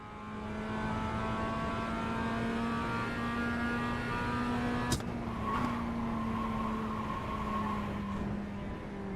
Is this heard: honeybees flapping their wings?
no